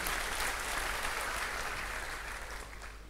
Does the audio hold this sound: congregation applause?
yes